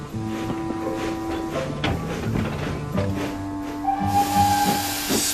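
Steam engine releasing steam in hissing bursts, with tonal whistle-like lines and a strong broadband hiss swelling near the end, moderately loud and close.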